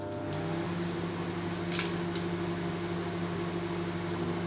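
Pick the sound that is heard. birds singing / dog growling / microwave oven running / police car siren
microwave oven running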